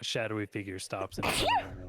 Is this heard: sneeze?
yes